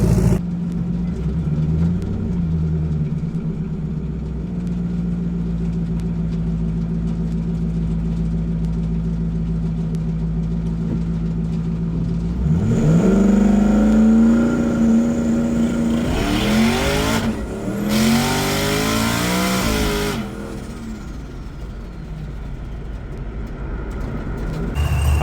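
A no-prep Ford Mustang race car idles loudly at a drag strip, then its engine rises in pitch and surges through a hard run with shifts before dropping back, close and dominant throughout.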